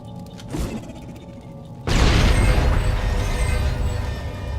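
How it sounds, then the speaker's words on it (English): A grenade blows up in Mass Effect, one sudden loud blast that swells into a long rumbling roar and lingering debris noise after a quieter stretch of game ambience. "Grenade at Musk's feet."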